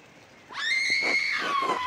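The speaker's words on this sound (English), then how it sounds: "I think those screams are coming from the chapter house." A single shrill, wavering scream rings out in the chapter house in the Pentiment video game, rising abruptly and holding for over a second before trailing off, with no speech over it.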